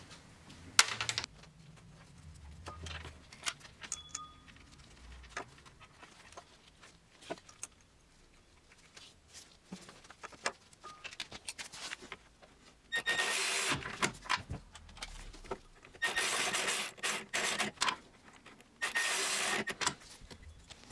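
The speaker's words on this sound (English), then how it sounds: "Now let's put back the pulley." Metallic clinks and ratcheting as a water pump pulley goes back onto a first-generation Chevrolet Cruze, with scattered taps early on and louder bursts of rapid clicking in the second half.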